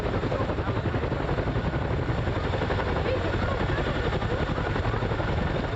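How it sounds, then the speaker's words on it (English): A military helicopter roars close by at an autumn military exercise, its rotor thudding in a steady, loud, continuous pulse that fills the whole clip. "A military helicopter made a stunning appearance in front of the crowd"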